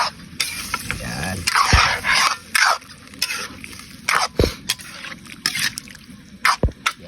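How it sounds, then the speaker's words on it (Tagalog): Chicken adobo being stirred in a pan gives off scraping, clinking utensil strokes against the metal amid light liquid bubbling and sizzle. The strokes come close up and irregularly, with no talking. "Haluin lang natin yung mga pare ko."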